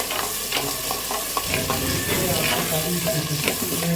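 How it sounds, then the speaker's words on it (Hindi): A tomato, onion and green chili paste mixed into boneless chicken frying in a handi, the loud, dense sizzle swelling as the wet paste hits the pan, with stirring scrapes throughout. "टमाटर प्याज और ग्रीन मिर्ची का, ये डाल देंगे। मिक्स करेंगे अच्छे से।"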